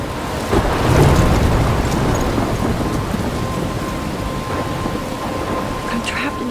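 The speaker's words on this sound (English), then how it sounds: "I'm trapped in a storm?" A thunderstorm in the video game Life Is Strange brings steady heavy rain and a low rumble of thunder that swells early on, then settles into a constant loud downpour.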